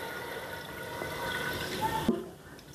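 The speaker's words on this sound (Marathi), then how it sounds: "बघा चिकनमध्ये हवा 1 तांब्या पाणी टाकलं" A jug of water is poured over washed chicken pieces in a pot in a home kitchen, ready for boiling. It makes a brief, quiet splashing pour that fades after about two seconds.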